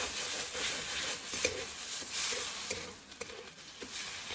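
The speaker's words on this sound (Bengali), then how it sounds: "মশলাটাকে এবার ভালো করে কষে নেব।" Spice masala with tomato frying in a pan, a steady soft sizzle with scraping stirring strokes, close and fairly quiet.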